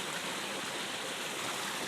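A backyard waterfall pours into a goldfish pond lined with boulders and plants, a loud continuous rush of splashing water close by with no voices.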